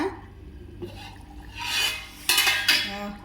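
A metal plate lid clanks and scrapes as it is lifted off a pot of mochai and nethili dried-fish curry, with a few bright, close metallic knocks and rattles amid quieter kitchen shuffling.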